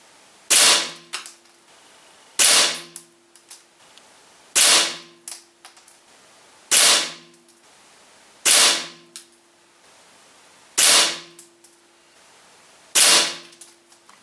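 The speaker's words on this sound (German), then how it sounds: "Wir kommen zum Schusstest der Diana 240." A Diana 240 Classic air rifle fired shot after shot, seven sharp spring-piston cracks at regular intervals of about two seconds, each with a short metallic ring after it, close and loud.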